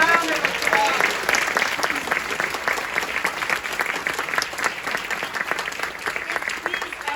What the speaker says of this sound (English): could we give them all one more round of applause